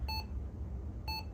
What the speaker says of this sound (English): this one just gives a beep, which I recognize as a memory error